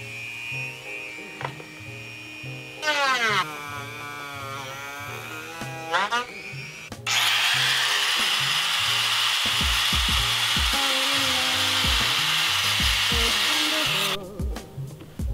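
Plastic tail light tabs are cut with a buzzing power tool in several bursts, the whine rising and falling against the material, with a long steady run of cutting near the end.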